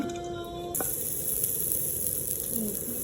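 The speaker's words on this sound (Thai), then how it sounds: "ขั้นตอนต่อไปก็คั่วถั่วนะครับผม" Raw peanuts dry-roast in a pan, giving a steady, close, sizzling and rustling hiss that runs without a break.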